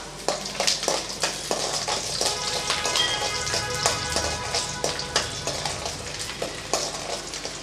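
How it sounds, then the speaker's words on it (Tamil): About fifteen peeled garlic cloves sautéing in a pan of oil for a mint and coriander thokku, giving a continuous crackling sizzle with frequent sharp pops and spatters, close and fairly loud, and no voices. "ஒரு பதினஞ்சு பல் பூண்டு உரித்து வச்சுருக்கேன் இப்போ அதை சேர்த்துக்கலாம் கொஞ்சம் வதக்கி விட்டுறலாம்"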